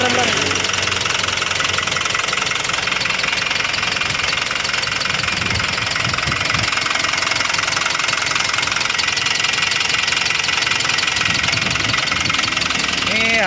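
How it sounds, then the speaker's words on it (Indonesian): A Toyota Dyna 110 ET truck engine runs steadily throughout, a loud continuous mechanical drone with rhythmic knocking, heard during a test drive. "Ini engine-nya sangat halus."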